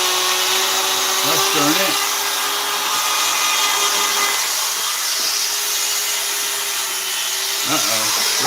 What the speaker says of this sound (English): We're having Dremel problems.